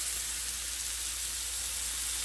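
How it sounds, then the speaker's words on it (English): Wild turkey strips sizzle in olive oil, a steady, even frying hiss that holds at moderate level with no talk over it. "we're gonna let that sizzle"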